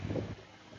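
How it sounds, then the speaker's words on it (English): Low, rumbling wind buffets the microphone, strongest in the first third of a second before easing into a steady, quieter gust. "It's windy, it's cold, it's nasty."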